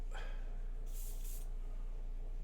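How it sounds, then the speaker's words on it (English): An airbrush sprays paint cleaner into an overspray pot at a miniature-painting bench, a short close burst of airy hiss lasting about half a second over a low steady hum. "Spraying into my overspray"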